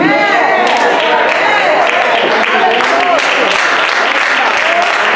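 Church congregation applause during a sermon, loud, dense and sustained clapping from a crowd, with voices calling out beneath it throughout.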